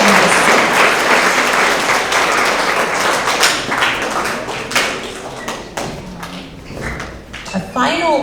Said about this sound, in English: give another round of applause for all of our Honesty Award winners